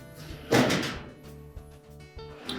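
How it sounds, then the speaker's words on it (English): The rear glides of a Frigidaire range's storage drawer drop onto the bottom track with one solid, fairly loud thunk, followed by quieter scraping and light knocks as the drawer settles. "Now let the rear glides engage the track on the bottom."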